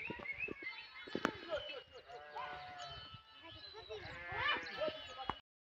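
Himachali Gaddi sheep bleat repeatedly outdoors, several overlapping calls from a flock, with someone talking over them.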